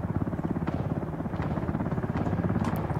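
A helicopter in the video game Ring of Elysium thuds with rapid, steady rotor pulses at moderate distance, a continuous chopping beat with a few faint sharp clicks over it.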